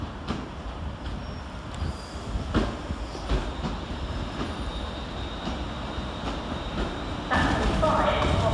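London Northwestern Railway class 350 train arriving at Crewe station from Stafford, a steady close rumble of wheels and carriages with rhythmic clicks and a high squeal near the end, joined by station announcements.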